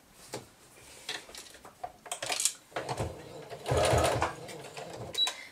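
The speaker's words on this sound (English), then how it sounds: "We're going to stitch down this side, and then we're going to stitch down this side, and then our bag will be finished." A sewing machine stitches down the side of a fabric microwave potato bag, close and fairly quiet, running in short bursts with pauses and a longer steady run, while a person talks between runs.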